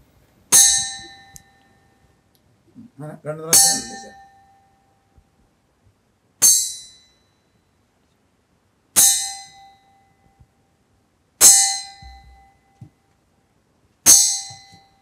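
A pen tapping a steel glass tumbler: six separate bright metallic clangs, each ringing out and fading over a second or two, spaced roughly evenly and heard up close with nothing else around them.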